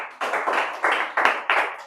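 Classroom students clap their hands in five or six loud, sharp bursts, each a quick flurry of overlapping claps with brief gaps between them, close and without talk.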